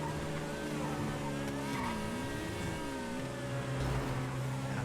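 Race car engine in a GTA FiveM race, a steady droning roar with pitch that dips and rises through shifts, loud and continuous throughout.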